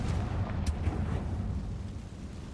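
A fiery Confringo spell blast from the Hogwarts Legacy video game erupts in a heavy, rumbling boom with a crackling tail that fades gradually over a couple of seconds.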